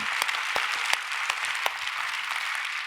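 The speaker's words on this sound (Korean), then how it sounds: "우리 하나님께 영광의 박수" A congregation applauds during a Korean church Sunday worship service, a steady wash of clapping with a few sharp, louder claps standing out nearby.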